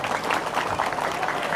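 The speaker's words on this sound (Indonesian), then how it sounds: "Tepuk tangan lagi." Steady applause from an audience, sustained and fairly loud throughout with no pauses.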